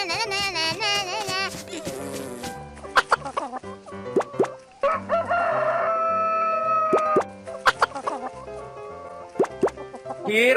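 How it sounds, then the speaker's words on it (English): Cartoonish chicken clucks and crowing-like calls from an animated kids' animal program, mixed with bright musical tones, pops and plops, with a child-like voice talking briefly. "Chicken."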